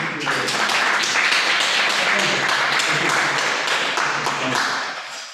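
A seminar audience claps for a speaker after a session on decline processes in energy technology innovation systems, with steady, fairly loud clapping where individual claps stand out, fading toward the end.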